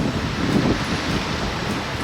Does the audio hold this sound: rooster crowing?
no